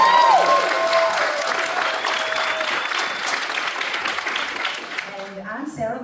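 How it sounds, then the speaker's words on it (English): A festival Q&A audience applauding after panel introductions: dense, loud clapping from a crowd filling the room, fading toward the end as a voice starts speaking over the last moments. "let's give them all a big round of applause"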